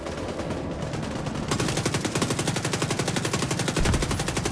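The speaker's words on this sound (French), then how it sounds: "le bruit de ce flingue est terrible" A gun loaded with explosive ammunition fires in The Division 2, a fast, loud, continuous automatic burst of evenly spaced shots that keeps going after a short opening stretch.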